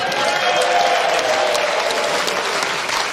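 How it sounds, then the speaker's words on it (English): An arena crowd at a professional bowling match, the Weber Cup, bursts into loud, sustained applause and cheering for a player, the dense clapping filling the whole moment without a break. "And this crowd showing their appreciation for the big Swede."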